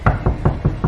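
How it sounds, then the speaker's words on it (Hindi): A train cabin door is knocked on five times in a steady, evenly spaced rhythm, each knock dull and close. "और तभी ट्रेन के उस कैबिन के दरवाजे पर एक दस्तक हुई।"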